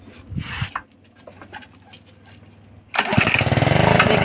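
A Honda water pump engine is kick-started: a few mechanical clunks and rattles of the kick, then the small engine catches and runs with a loud, steady, throbbing idle close by.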